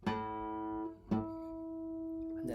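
A synthesized string sound built from a 220 hertz open A root plus added harmonics, heard as two soft plucked-like onsets with sustained pure tones layering in, faint and alone.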